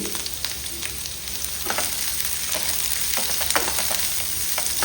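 Chopped garlic and onion frying in a spoonful of oil in a pan: a continuous close crackling sizzle with repeated scraping strokes of a stirring spoon.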